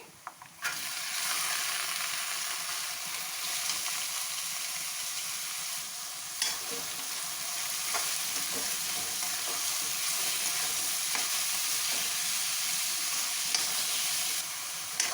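Chopped onions go into hot oil with frying ginger and garlic for a dhaba-style aloo gobi, giving a loud, steady, close sizzle that runs unbroken with occasional stirring clicks, and no one speaks.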